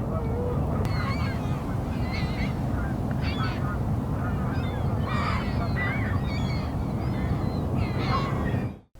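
A flock of seagulls lifts off together near the shore, filling the air with loud overlapping honking calls and squawks, close and continuous, with a constant outdoor rush beneath them until an abrupt cutoff.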